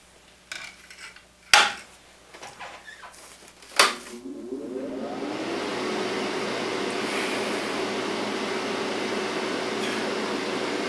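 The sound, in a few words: fan running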